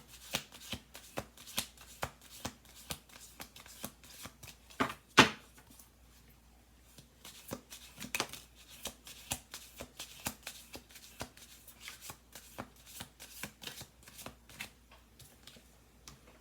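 Tarot cards are shuffled by hand in a series of crisp, papery riffles and taps, close and fairly quiet, with one sharper slap midway and brief pauses between bursts.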